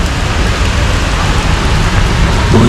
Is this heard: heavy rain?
yes